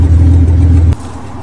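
A rolled Ford Ranger pickup truck pulls away, its engine a loud, close rumble for about a second before cutting off abruptly into quieter residual noise.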